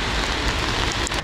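Steady rain pours outdoors on a city street, a dense, loud, unbroken hiss of drops hitting the ground with a few brighter splashes near the end.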